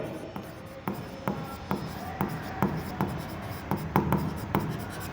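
Pen writing a share premium working note for bank final accounts, a close, steady run of short scratchy strokes on paper repeating in an even rhythm, with no speech heard.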